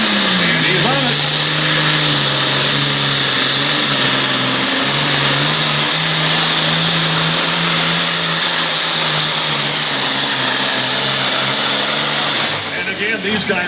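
A 4WD pulling truck at a Monticello, Iowa pulling event revs hard under load, a loud sustained engine roar with steady harmonics that drops off near the end; an announcer talks over it.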